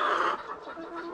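Farm hens cluck close by, a short run of throaty, repeated clucks in a rural yard, with no voices.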